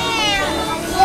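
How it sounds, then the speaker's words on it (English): Cat meowing at a family birthday party with a barbecue dinner, a high wavering cry heard up close over people talking. "There's a cat."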